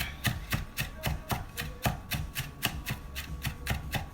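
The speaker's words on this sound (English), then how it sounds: "So we're just chopping up" A knife chops shallots on a board while a French vinaigrette is being made. The chops are close, crisp and steady, falling at about three per second with no talk.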